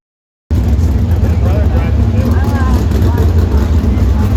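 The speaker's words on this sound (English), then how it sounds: "That, my friends, is the sound of a 410 sprint car getting ready for 10 straight nights of action." A 410 sprint car engine starts up suddenly and runs at a loud, steady, rumbling idle close by, filling the whole stretch without pause.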